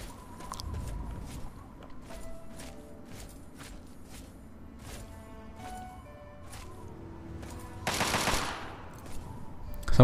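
Far-off gunfire from Fallout 3 pops through a wasteland scene in scattered, faint shots, with the last few seconds turning louder as a burst gets closer. No one speaks.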